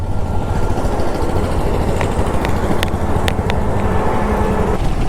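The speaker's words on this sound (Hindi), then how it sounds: "अब शैलेंद्र भगाएगा बाइक," A motorcycle engine rumbles steadily at close range as a bike ride toward Manali gets underway, a constant low drone with faint ticking and clicks over it.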